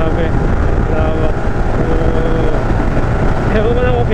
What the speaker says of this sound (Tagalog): grabe na yung hampas ng hangin sa helmet ko